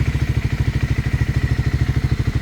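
A Triumph Scrambler 400X single-cylinder motorcycle engine running just after starting, a steady rapid thumping idle with even pulses, close and fairly loud.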